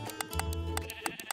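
Sheep in the video game Minecraft bleat in quick succession, several short nasal baa calls close up and overlapping in a rapid, uneven rhythm with no talk.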